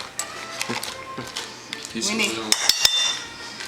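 A spoon scrapes soft cream cheese around a bowl for cheesecake, making a run of close clinks, taps and scraping knocks against the dish while someone talks over it.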